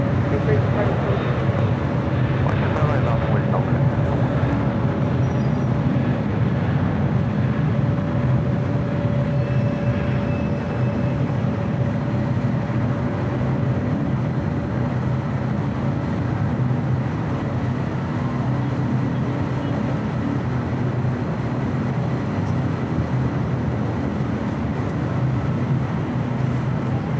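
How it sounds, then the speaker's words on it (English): A Korean Air Airbus A380 jet takes off from Los Angeles International Airport, its engines producing a steady, loud, broadband roar that holds for the whole stretch, with voices talking beneath it. "This is Korean Air Flight 12 taking off to Seoul on the A380."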